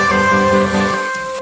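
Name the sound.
future bass build with Endless Smile effect: low cut filter and reverb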